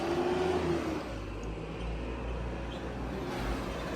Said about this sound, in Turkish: Böyle otobüslerimiz de geçiyor sürekli